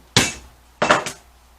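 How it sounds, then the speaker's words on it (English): Hammer blows smash a nutmeg inside a plastic sandwich bag: one sharp crack, then a second strike with a quick follow-up hit, each close and loud with a brief rattling decay. "I just want to see what happens when you hit a nutmeg with a hammer"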